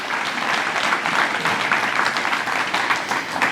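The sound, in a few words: round of applause for the student council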